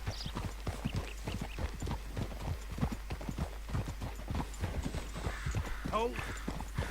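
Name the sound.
horse hooves clip-clopping in video game Red Dead Redemption 2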